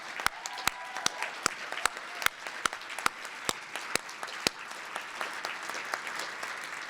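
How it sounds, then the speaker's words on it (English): Applause fills a public library gala, with sharp individual claps standing out over a continuous wash of clapping from the audience, steady for several seconds before tapering slightly. "would you please stand up for a round of applause?"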